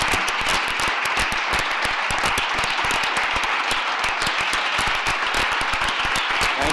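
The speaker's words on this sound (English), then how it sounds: "please join me in giving him a round of applause" A lecture audience gives a dense, continuous round of applause for an activist and philosopher, many hands clapping steadily and evenly for several seconds with no talk over it.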